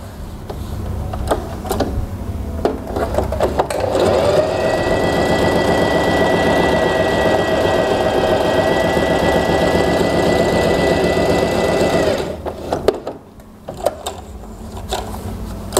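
A sewing machine runs for about eight seconds, a loud steady mechanical whir with a fast rattling rhythm. Handling clicks and small knocks come before and after it.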